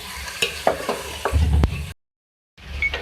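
Chopped kulfa (purslane) leaves with potato are stirred in a pan, giving scraping, sizzling stirs close by, then a short silence before the stirring starts again.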